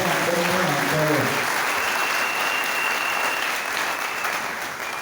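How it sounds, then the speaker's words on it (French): A church congregation bursts into loud, sustained applause and cheering that fills the whole stretch, with a voice briefly audible at the start. "Tu vas acclamer pour le nom du Seigneur."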